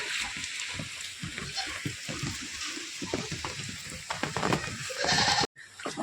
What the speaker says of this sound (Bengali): এই গোয়ালটা ওইখানে থেকে একটু উঁচু তাই এখানে ছাগলগুলো ভালো থাকবে